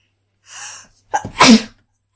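A single sharp sneeze, preceded by a brief drawn-in breath, close and loud, then silence.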